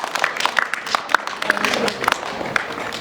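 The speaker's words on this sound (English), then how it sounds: "Clap for Nishant." Students and audience at an English poem recitation competition clap for the next contestant, a dense crackle of many hands with some sharper individual claps, moderately loud, with a bit of voice mixed in.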